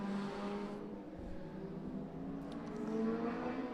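A modified Ford race car on the final lap of a circuit race at Mondello Park, heard as a steady engine drone that swells and whirs as the car passes at moderate distance.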